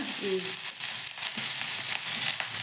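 Onions frying in a little oil for a chutney, a close, steady sizzle with soft crackles throughout, and a faint voice briefly at the start.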